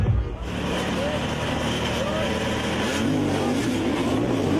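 Enduro motorbikes launching at full throttle in the Red Bull Romaniacs prologue finals in Sibiu, engines revving hard into a steady loud roar, with pitch sweeps from individual bikes rising through the din.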